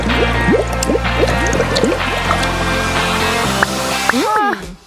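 Slime pouring from a shower head in place of water, thick squelching glops and gurgling drips falling in quick succession, loud and close, ending in a wet squish.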